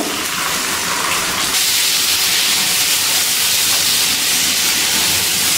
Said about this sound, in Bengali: আদা বাটাটা তেলের মধ্যে ভালো করে কষিয়ে নিচ্ছি